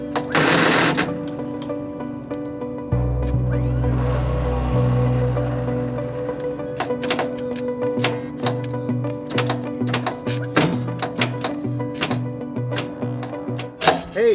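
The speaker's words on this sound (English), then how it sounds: "So I have to engage the solenoid first and then move over to the starter." An old, long-abandoned heavy machine with a tree growing through it is cranked by its starter through a solenoid: a steady mechanical hum and low grinding, then a run of sharp, repeated clattering knocks, close and loud.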